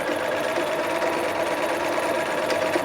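A sewing machine back-stitches over earlier seams on a knit dress sewn from Simplicity pattern 9011, making a steady, close, continuous mechanical whir with no talk.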